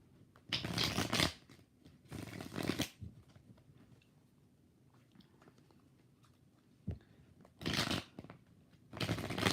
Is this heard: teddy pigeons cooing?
no